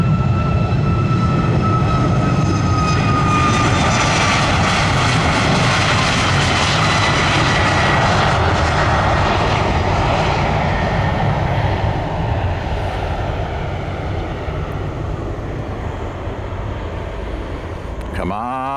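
Arriving airliner at Orlando MCO, a loud continuous jet engine roar with broadband rushing noise that stays steady and slowly fades slightly toward the end.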